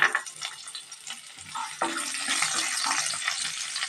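Chopped medium onion goes into a frying pan with vetki fish, giving a soft, steady sizzle with occasional stirring and scraping; moderate loudness, no talking.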